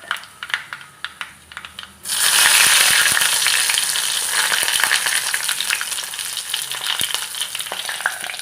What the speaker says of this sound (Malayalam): കടുക് പൊട്ടി ഇനി 2 വറ്റൽമുളക് ഇടാം. അത് കഴിഞ്ഞ് കറിവേപ്പില